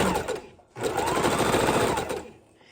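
Sewing machine running a loose zigzag stitch through quilt batting, a steady close mechanical whir that stops briefly near the start, then resumes and winds down, with a voice speaking over it.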